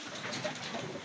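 Racing pigeons being readied for a derby, a faint, soft cooing murmur heard close by for about a second over a low background hiss.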